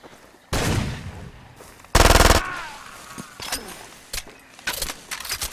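Machine gun fire in the video game Far Cry 2 rattles out in loud, close bursts, one long sustained burst among shorter volleys and scattered quieter shots.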